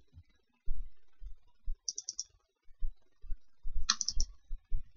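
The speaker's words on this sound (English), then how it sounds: "Now I'll double click" Clicks from a computer mouse at a desk, including a quick double click, near and crisp amid quiet low thumps.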